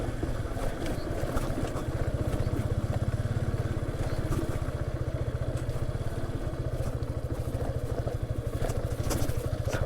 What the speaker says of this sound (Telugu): యమహా FZ V3తో ఒక చిన్నపాటి ఆఫ్ రోడ్ అయితే చేస్తున్నాను.